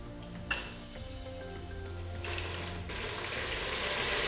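Browned onions and fenugreek leaves fry in a pan for an East African stew, a soft steady sizzle that swells louder toward the end, with a couple of small clatters near the start.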